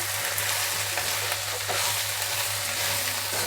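Chopped tomatoes fry and sizzle in a pan of potato, carrot and field bean curry while being stirred, a steady close crackle that runs unbroken throughout with no talking.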